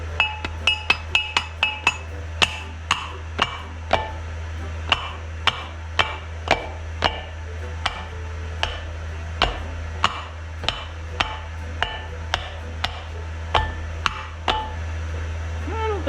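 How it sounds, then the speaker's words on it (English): Repeated dead blow hammer blows on a Kubota part, a long series of sharp metallic strikes, quick at first and then steadier, about one per second, over a low background hum. "I got my dead blow hammer."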